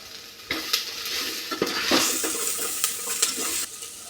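Spices frying in a hot pan while being stirred, a soft sizzle with repeated scraping strokes of a spoon against the pan, close and fairly quiet, no talking.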